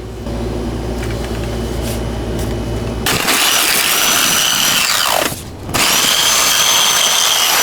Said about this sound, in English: We got the jigsaw. We're going to cut the arch out.